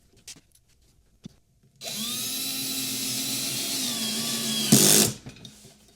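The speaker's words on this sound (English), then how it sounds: "I'll just go ahead and drill these in with my screwdriver" A power screwdriver driving small screws into a desk while mounting a cable tray, a few soft handling clicks, then a steady whirring motor run of about three seconds ending in a brief louder grinding burst as the screw seats.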